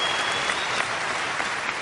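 Audience at a live talk breaking into steady, dense applause, a continuous wash of many hands clapping close up with no voices over it.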